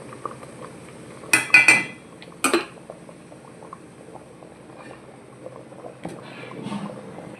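Paneer biryani rice is stirred in a pot, with a few sharp metal scrapes and clinks of a utensil against the pot near the start, then quieter liquid bubbling and occasional light knocks.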